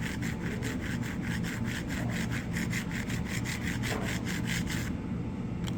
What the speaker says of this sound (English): we use our plastic card perpendicular to the scratch to scrape away the excess